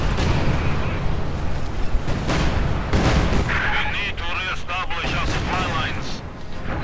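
Artillery shells pound German grenadiers in a Company of Heroes 2 battle, a dense, continuous barrage of booms and gunfire rumbling throughout with no pause.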